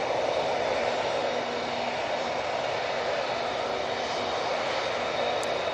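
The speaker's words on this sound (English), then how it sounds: "just in time for the Emirates A380" Emirates A380 airliner roaring at Manchester Airport, a steady, loud and broad engine rumble holding for several seconds with no voices.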